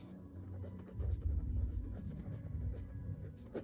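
A pen writes an algebra answer onto paper, a soft continuous scratching with faint low rubbing strokes close by and no talk.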